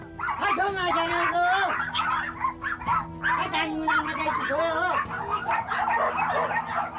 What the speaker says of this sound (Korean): 결국 개 짖는 소리 때문에 집주인이 찾아왔습니다.